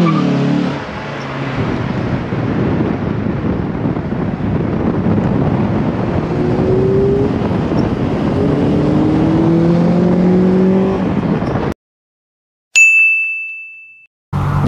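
A JDM Honda Prelude with an H22A engine on a test drive, heard from inside as a steady engine and road roar with wind noise, then a sudden cut and a short ding chime.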